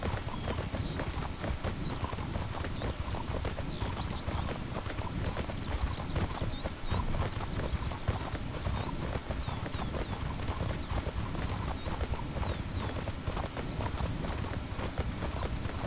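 A desert horse's hooves clip-clop steadily in the online role-playing game Mortal Online, a fast, continuous rhythm of hoofbeats at close range with birdsong chirping faintly in the background.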